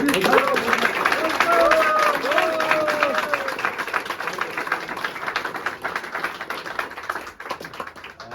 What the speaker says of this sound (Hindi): मैं आप सबकी जोरदार तालियों के बीच में इनवाइट करना चाहूंगा